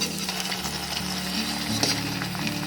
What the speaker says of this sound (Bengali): এইভাবে কন্টিনিউ তেলের মধ্যে নাড়তে থাকবেন, দেখবেন এটা খুব ভালোভাবে ছেড়ে উঠে যাবে।